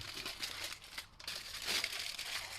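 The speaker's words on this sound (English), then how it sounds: "So I'll put some more foil down the bottom." Aluminium foil crumpled, folded and pressed by hand while sculpting a figure's head and chin: continuous close crinkling and crackling with no voices.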